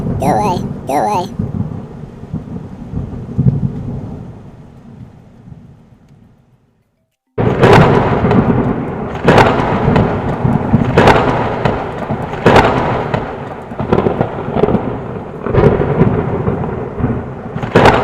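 Thunder rumbles loudly near a mountain during a storm, a long low roll that fades out, then sharp cracks and booming claps repeat over steady rain-like noise.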